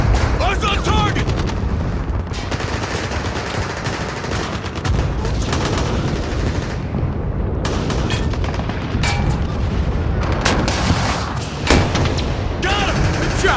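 Battle sound effects for a stop-motion Battle of the Bulge toy soldier scene: dense gunfire crackle and booming artillery blasts, with sharp bursts and heavy rumbles layered throughout and voices shouting amid them.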